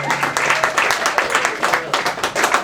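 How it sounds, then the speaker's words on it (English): Open mic comedy audience applauding as a comedian takes the stage, a short burst of mixed claps with a few louder individual hits, fairly close and steady across the moment. "Let's have a huge round of applause for Dylan Krause"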